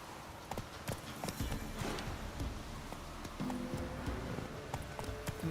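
Hooves of a horse in The Witcher 3 clip-clop steadily in a quick, uneven gait at moderate loudness, with faint background game sounds.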